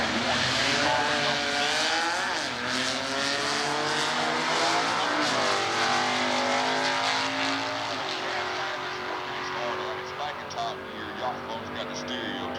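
A 1969 big block Camaro with an A stock automatic runs in a stock eliminator drag race, its loud engine roaring steadily throughout under continuous announcer commentary.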